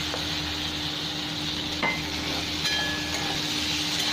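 Chopped tomato sizzling in a pan of fried onions while a Bengali-style raw pumpkin curry is cooked, with a steady crackling hiss and a few scrapes of a spatula stirring against the pan, close and continuous, no talking.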